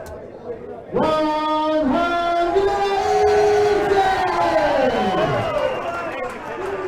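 Darts crowd in Northern Ireland roaring and chanting in support of local player Kyle, a loud sustained bellowing with sung, drawn-out tones rising and falling.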